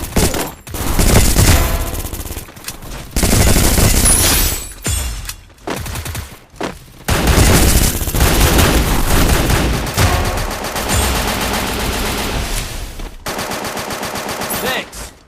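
Gunfire from a Lifetime thriller movie bursts in loud, rapid volleys of automatic shots, broken by sharp pauses and brief gaps of near-silence, with dramatic effects in between.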